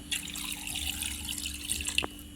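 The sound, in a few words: water poured onto country chicken bones in pot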